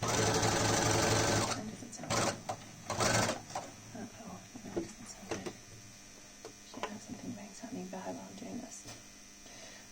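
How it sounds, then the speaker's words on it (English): Sewing machine runs fast stitching a fabric face mask, a loud close mechanical whir in two short bursts, then quieter handling clicks and rustles under talk. "Let's hope my sewing machine doesn't break"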